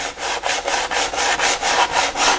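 Rhythmic back-and-forth rasping of 120-grit sandpaper smoothing body filler on a racing shell hole repair, close and steady, about four strokes per second.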